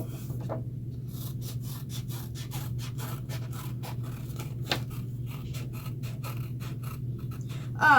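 Scissors snip and rub through paper in a steady series of short cuts, close up, over a constant low hum.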